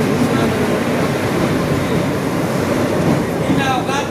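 A train pulling into Harishchandrapur railway station, a loud, steady rumble and roar of wheels and carriages filling the whole stretch, with a faint squeal near the end.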